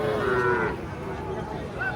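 A two-year-old local-breed calf at a cattle market moos in a short, low, drawn-out call, fairly close, with faint background noise.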